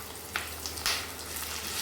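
Pieces of raw green mango dropped into a pan of softened onions, a steady low sizzle with a couple of brief sharper hisses as the fruit hits the hot oil, heard alone without voices.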